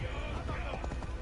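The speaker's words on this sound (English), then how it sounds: "I'm just riding a horse." Horse hooves clip-clop at a steady trot while riding through Winchester in the Assassin's Creed video game, with a light, rhythmic patter under a dense game soundscape and background chatter.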